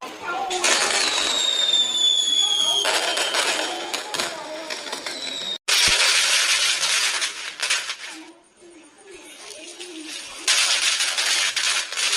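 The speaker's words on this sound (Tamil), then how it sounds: "இவங்க பாருமா வெடி வைக்கானுங்க." Firecrackers go off at a wedding in dense, loud crackling volleys of rapid pops close by, with a sharp bang midway and people talking underneath.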